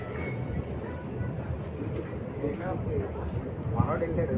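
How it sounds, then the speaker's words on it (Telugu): The Simhadri Express pulls out of Anaparthi station, its rumble and clatter steady from inside the carriage, with a voice talking over the rolling noise. "మన ట్రైన్ అయితే అనపర్తి స్టేషన్ నుండి అయితే బయలుదేరిపోయింది."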